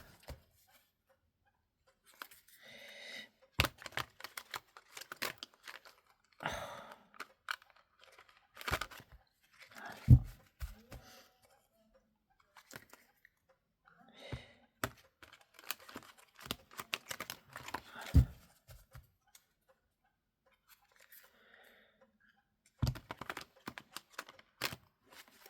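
Tarot cards are shuffled and riffled in repeated bursts of crisp flicking and slapping, close by, separated by quiet pauses.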